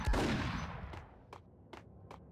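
Gunfire in the Max Payne video game: an opening burst of rapid shots that trails into a decaying echo, followed by four evenly spaced single shots, crisp and fairly loud with no talking.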